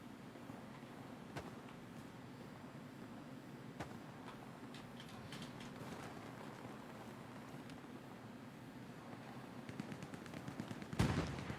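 Machine gun fire in a video game, a faint, continuous crackling rattle heard from a distance that grows louder and busier toward the end.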